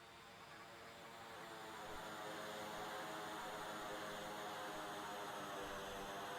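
A propeller airplane engine drones in the Homebrew video game, a steady continuous hum that swells slightly and then holds loud throughout.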